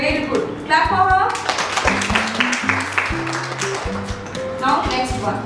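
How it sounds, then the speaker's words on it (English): Children in an international school classroom clap for a classmate during a science activity, a short burst of hand claps mixed with voices talking and singing-like tones over it. "Clap for her."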